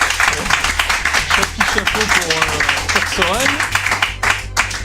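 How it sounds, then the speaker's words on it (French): An audience applauds a Contra III: The Alien Wars superplay run with a dense, steady patter of claps that continues under someone speaking French. "Ok, je pense qu'on peut l'applaudir"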